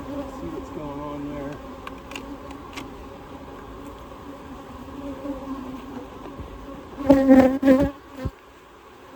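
Honey bees buzz around an open beehive during an inspection, a soft, steady drone up close with a few louder passes near the end, and someone speaks briefly over it.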